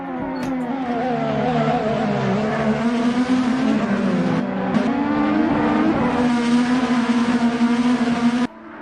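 IndyCar race cars in the Assetto Corsa racing game scream down the back straight at Atlanta, a loud, sustained, high engine drone with shifting overlapping pitches that cuts off abruptly near the end.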